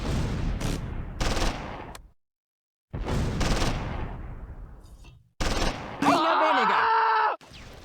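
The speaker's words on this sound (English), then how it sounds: "The MG-42 targets the medium machine gun." MG-42 machine gun fire in the World War II strategy game Close Combat 3 comes in long loud rattling bursts with short silent gaps. Near the end a tonal, descending sound effect overlaps the gunfire.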